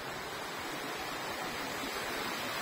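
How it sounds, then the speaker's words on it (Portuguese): Water from a waterfall inside an old gold mine in Ouro Preto rushes and roars in a steady, dense wash, close and loud, with no break and no voices. "E aqui tem uma cachoeira, pessoal."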